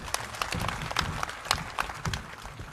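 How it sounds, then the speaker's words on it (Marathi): A crowd at a government building foundation-stone ceremony in Jat claps for a local figure, moderately loud, with individual sharp claps standing out from a looser patter. "आणि गोपी शेठसाठी एकदा जोरदार टाळ्या वाजवा."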